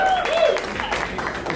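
Audience applause and cheering at a live comedy show in Laredo, a dense, steady wash of clapping from a crowd that holds at full level throughout with a whistle or voice rising briefly near the start.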